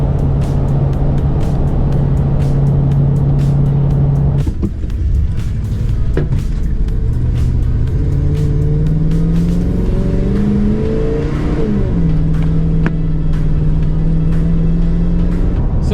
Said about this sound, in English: I'm gonna get driving again.